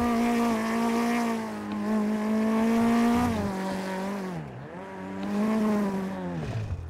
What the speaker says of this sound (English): This car sounds like it's seen better days.